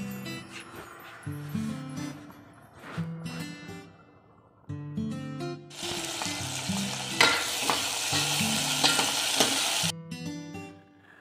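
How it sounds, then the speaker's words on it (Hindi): Chana dal tempering crackles and sizzles in hot oil, a loud continuous frying hiss with stirring clatter and music playing underneath throughout. "ये छौंक लगने लग रहा है चने की दाल के"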